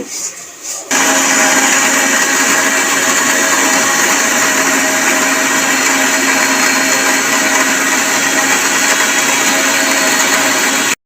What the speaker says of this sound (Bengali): মিক্সি জারের মধ্যে দেখো দানাগুলো সব নিয়ে নিয়েছি পটলের। এটাকে এবার পেস্ট করব।